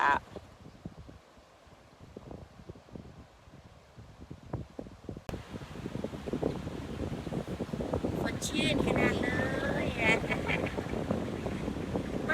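Cool sea wind blowing at the coast of Laem Mae Phim, a steady rush that grows stronger and fuller midway through, with a person talking over it.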